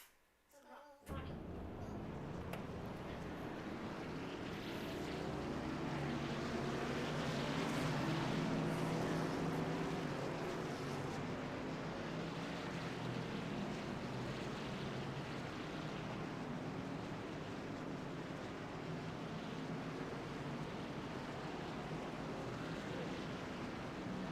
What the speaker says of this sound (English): Jack up the sound so you guys can hear the engines roar as they go through North Wilkesboro